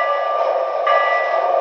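A Lionel model K4s steam locomotive in Detroit & Mackinac Railway livery runs with a steady whirring, humming tone, close and continuous, with a slight shift in pitch partway through.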